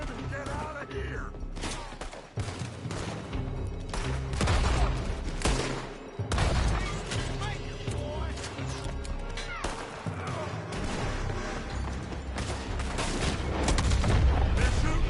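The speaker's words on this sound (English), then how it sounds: "They're shooting from that building!" Heavy gunfire from enemies firing out of a building in Red Dead Redemption 2, a dense, continuous fusillade of loud shots and booms with crashes, a brief lull near the middle, and shouting voices mixed in.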